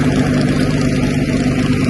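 A tractor with a mini rotavator attachment runs its engine steadily at close range, a dense continuous mid-pitched drone with no breaks or revving, and no voices over it.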